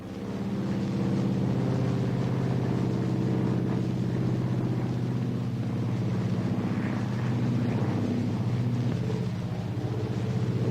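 A loud, continuous propeller engine drone from an airplane in a 1947 film, steady and close, with a throbbing rumble that persists throughout.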